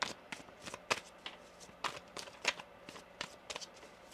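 Soft riffling and snapping of a deck of tarot cards being shuffled, in several quick bursts with short pauses. It is quiet and close, with no talking.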